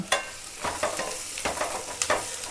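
A coconut masala mixture with onion and tomato fried in a pan for chicken curry, a gentle sizzle broken by a few distinct spatula scrapes and knocks, close and fairly quiet, no one speaking.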